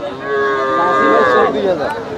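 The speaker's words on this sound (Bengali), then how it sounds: "এ পাশে সুন্দর একটা গরু দেখছি" A young Sahiwal or local heifer, seven to eight months old, calls out at a cattle market, giving one drawn-out, close and loud moo that fills almost the whole moment, with faint background noise.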